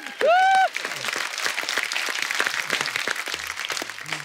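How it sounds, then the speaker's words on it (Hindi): Studio audience applause on a comedy show, a dense, steady patter of many hands at moderate loudness following a brief tonal sound effect at the start, with people talking over it. "जोरदार तालियां बोरी और चंदू के लिए।"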